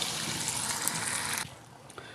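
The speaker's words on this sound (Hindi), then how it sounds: "आधा गिलास पानी ऐड करते हैं।" Half a glass of water poured into a pan of frying beef kofta, a loud broadband hiss and gush for about a second and a half that then drops sharply to a quieter simmer.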